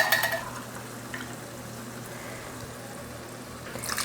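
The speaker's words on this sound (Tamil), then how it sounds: "இப்போ தண்ணி சேர்த்துக்கலாம்." Water pours steadily into a pot of softened tomatoes and turmeric for a lentil rice dish, giving a soft continuous splashing hiss close by, with no talking.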